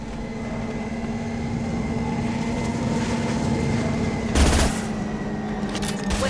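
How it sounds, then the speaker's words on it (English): Continuous distant gunfire rattles through a firefight in the video game Mass Effect 2, with a steady mechanical hum underneath and one louder burst standing out briefly. "A lot of gunfire."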